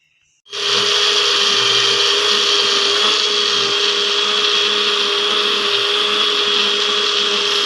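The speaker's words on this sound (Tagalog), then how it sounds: "Now in the blender, guys. It's blending the moringa juice." A blender blending moringa juice starts abruptly and runs at a loud, steady whir for several seconds, its motor drone constant and close.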